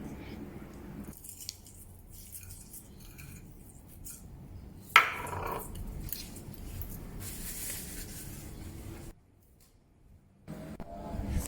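Crispy fried shallots, stored for two weeks, being crushed by hand, giving a dry crackling and rustling crunch with a sharp snap near the middle, then a brief quiet gap before more crunching.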